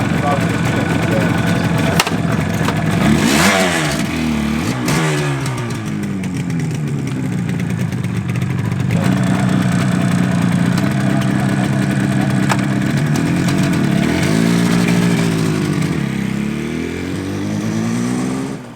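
A classic Yamaha RD 250 two-stroke motorcycle runs close by, its engine note rising and falling through two clear revving sweeps over a steady mid-range drone, with people talking over it.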